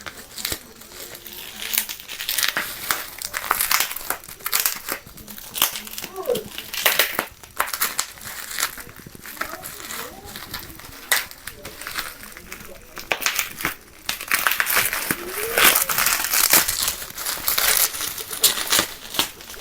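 Crinkling and tearing of iPhone box packaging as it is opened and unwrapped, with repeated close, sharp plastic rustles and crackles throughout, accompanied by occasional speech.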